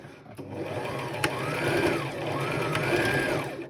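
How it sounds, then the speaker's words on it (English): A sewing machine stitches a Christmas stocking lining at just under a quarter inch, its motor whirring in two steady runs with brief pauses between, close and alone. "you're going to sew this at just under 1/4 inch, so it shouldn't be seen then"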